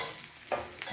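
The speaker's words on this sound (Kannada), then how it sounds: "ಸೊ ಇದು ಡೀಪ್ ಫ್ರೈ ಮಾಡೋದಲ್ಲ, ಶಾಲೋ ಫ್ರೈ" Okra shallow frying in a few spoons of oil in a covered pan over low flame, a soft, faint sizzle with a small crackle near the middle of a brief moment.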